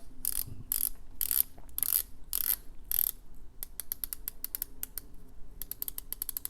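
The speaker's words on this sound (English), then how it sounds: "that's how you get the bezel to turn, and it does sound great" Rapid clicking of a Yema Superman Heritage steel dive watch bezel ratcheting round, first in a few quick bursts, then a long run of crisp, evenly spaced clicks, close up.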